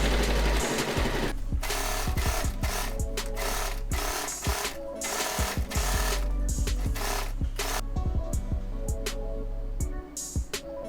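A sewing machine stitches a prayer rug in loud rapid mechanical bursts, starting and stopping in uneven runs of clattering needle strokes close by with no talking.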